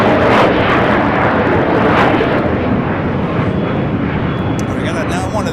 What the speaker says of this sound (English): We got now one of these 777s looking like it's heading up here for north side at takeoff